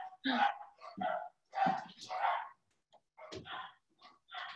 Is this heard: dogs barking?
yes